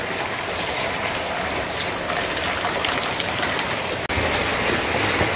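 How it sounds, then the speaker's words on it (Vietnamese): Heavy rain pours steadily in rural Vietnam, a dense unbroken hiss of drops on surfaces close by, loud and constant throughout with no voices. "Này thời tiết vẫn mưa gió cả nhà. Mưa rất to."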